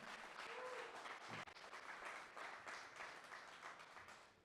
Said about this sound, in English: Can we get a round of applause for Jack Fife, our wonderful MC?